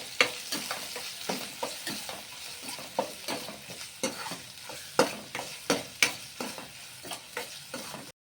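Chopped tomato and green chillies sizzle in a pan for chickpea curry while a spoon stirs them, scraping and tapping in a steady rhythm over a soft, continuous frying hiss.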